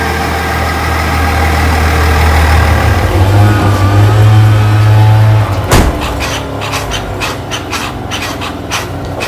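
A 2023 GMC Yukon Denali with the LM2 Duramax diesel idles steadily at close range with a low, even rumble, then a brief knock and a shift to a lighter, ticking hum.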